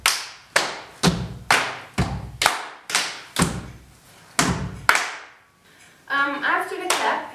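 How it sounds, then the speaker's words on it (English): A run of eight loud, sharp percussive hits in even rhythm rings out up close, consistent with claps or stamps in a dance routine, followed by a short stretch of talking. "Then we will have a clap."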